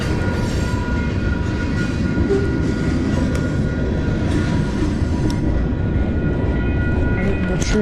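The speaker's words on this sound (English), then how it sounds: "Oh yeah, here's a train here." A train rolls past, close and loud, with a steady heavy rumble and rattle of wagons and faint high squeals, continuing throughout.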